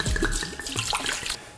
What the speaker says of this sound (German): Wir gießen in den Kessel 400 Gramm trockenen Weißweins.